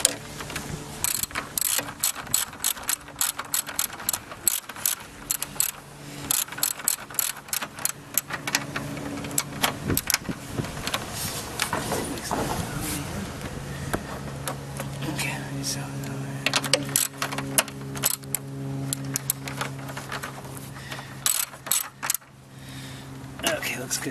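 A ratchet driving a 10 mm socket on a 2006 Mercedes S430 (W220) headlight, rapid bursts of clicking pawl strokes repeating throughout at close range, with someone talking in between.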